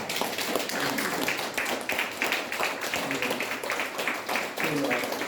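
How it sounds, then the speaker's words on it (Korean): An audience claps together at a calligraphy exhibition, a steady burst of clapping that lasts several seconds, with voices talking along with it. "우리 사모님한테 우리 다 같이 박수 한번 보냅시다"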